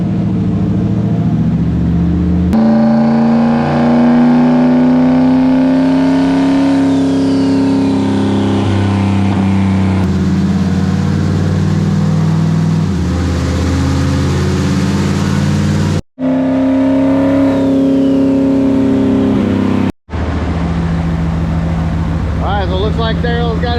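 A big-turbo Ford Coyote V8 revs on a dyno, loud and close, climbing and falling through throttle pulls with two abrupt cutoffs, while people talk over it.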